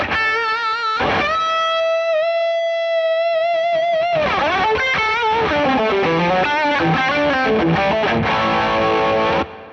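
Electric guitar played through a Fractal amp modeler set to the Carol Ann Tucana amp model, with distortion: a held ringing note followed by a run of busy distorted lead phrases, loud and continuous, with no talking.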